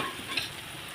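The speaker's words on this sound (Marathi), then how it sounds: "आता ह्या पनीरला असं फ्राय करून घेतलेलं आहे" Paneer frying in a pan gives a steady close hiss and crackle of sizzling oil, constant and even throughout with no voices.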